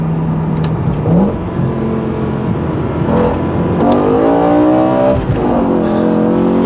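A BMW M6 E63 with its V10 engine revs hard, climbing through sharp rising sweeps and dropping back, loud and close with no talking over it.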